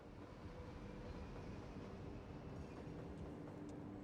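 Trams running through a city in the Cities: Skylines game make a steady, continuous rail rumble with faint wheel clatter, heard alone at low level without any talk.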